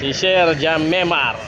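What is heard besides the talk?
No everyday noise stands out behind the speech.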